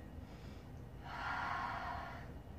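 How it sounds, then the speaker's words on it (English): A slow, deep breath during a yoga recovery flow, a soft airy exhale that swells and fades across the middle, faint and close, with no voices. "Deep breath."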